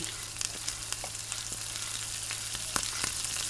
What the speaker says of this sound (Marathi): अशा सर्व मसाले हे छानपैकी मंद आचेवर आपण भाजून घेत आहे